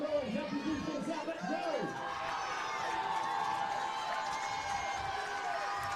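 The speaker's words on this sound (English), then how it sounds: "Crowd urging the Titans defense on" A high school football crowd cheering on the Titans defense: a broad, distant roar of voices and whoops rising steadily, with a commentator talking over it.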